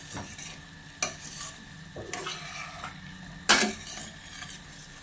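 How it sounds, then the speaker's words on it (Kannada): A potato dish being mixed in a pan after salt is added, with quiet scraping stir strokes over a light sizzle and a few sharp metallic clinks of the spoon on the pan. "ಉಪ್ಪು ಹಾಕಿ ಪುನಃ ಮಿಕ್ಸ್ ಮಾಡಬೇಕು"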